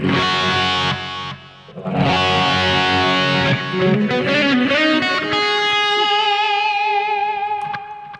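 Electric guitar played through a Boss eBand JS-10 with the distortion pedal switched off: clean, ringing chords and sustained single notes that decay slowly, loud and close, with no voice.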